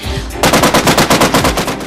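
A loud burst of rapid machine gun fire at Donetsk airport, about a dozen evenly spaced shots in quick succession after a brief quiet moment.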